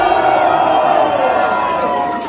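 An audience at a freestyle rap battle shouts and yells in unison in support of the battle rapper Psychopath, a loud, sustained crowd roar that tapers slightly at the end.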